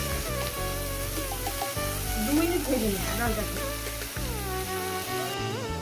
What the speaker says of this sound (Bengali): ডালটা আমি এক মিনিট একটু মিডিয়াম গ্যাসে ভেজে নেব মিডিয়াম গ্যাসে এইভাবে একটু নাড়াচাড়া করে ভেজে নেবেন